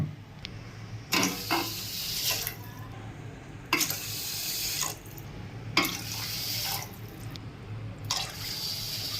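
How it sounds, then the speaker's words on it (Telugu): Water pours by the glassful into a pot of rice in repeated bursts, each a rushing splash lasting a second or two, with brief quieter gaps between them. "రెండు గ్లాసుల బియ్యానికి నేను ఐదు గ్లాసులు నీళ్లు పోస్తున్నాను"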